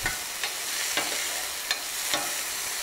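Red peppers cooking in a hot pan for a Thai stuffed omelette, giving a continuous bright sizzle broken by several sharp scrape-and-stir strokes at uneven intervals, close up and without talk.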